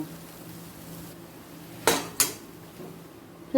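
Two sharp metallic clanks a fraction of a second apart as a spoon scrapes egg bhujia out of a pan into another pot, over a low steady kitchen hum with the gas flame just switched off.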